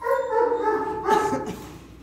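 Dogs on a farm after escaping their cages and fighting, giving sustained whining and yelping cries close by, with a short burst of barking partway through.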